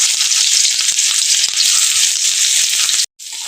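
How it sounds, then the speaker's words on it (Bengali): Chopped onions hit hot oil for a Mourala fish dish and sizzle loudly and steadily, a dense frying hiss with small crackles, briefly cutting out near the end before resuming. "এখন তেল গরমের মধ্যে আমি এখন দিয়ে দেবো এই কেটে রাখা পেঁয়াজগুলোকে।"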